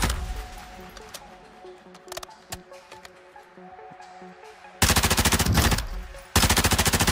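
Automatic gunfire with heavy recoil in Warzone 2.0: scattered shots over a low in-game hum, then two long, loud, rapid bursts of continuous fire near the end.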